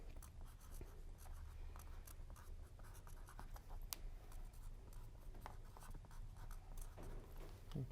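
A pen scratches on paper in a continuous quiet stream of small strokes and taps, faint and close, with a low background hum.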